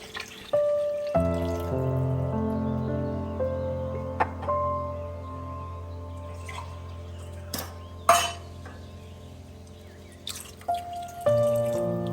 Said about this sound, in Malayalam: ഇനി നമുക്ക് കറിക്ക് ആവശ്യമുള്ള ഇനി വെള്ളം കൂടി നമുക്ക് ഒഴിച്ചു കൊടുക്കാം